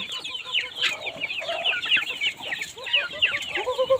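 Chickens on a village farm cluck and chatter continuously at close range, several birds overlapping in busy, uneven bursts.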